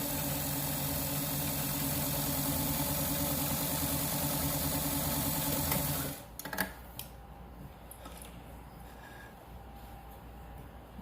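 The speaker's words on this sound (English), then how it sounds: "And just continue to sew that all the way down." An electric sewing machine stitches a fabric mask seam, a steady close whir running for about six seconds, then stopping, followed by light handling noises.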